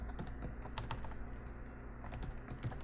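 Steady, continuous typing on a computer keyboard, close and moderately loud, with rapid irregular key clicks running throughout and no voices.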